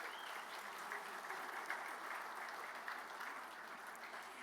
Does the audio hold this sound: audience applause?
yes